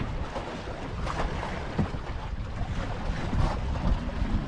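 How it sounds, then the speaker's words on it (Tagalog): Big sea waves wash around a small fishing boat out at sea, a constant loud rushing of water and wind noise with occasional swells and no talking. "malaki pa rin ang alon ah"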